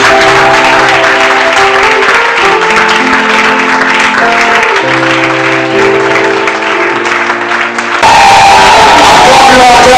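A church congregation at a Sunday service applauds and cheers to praise God, a steady crowd roar over sustained keyboard chords, swelling into a louder burst of clapping near the end.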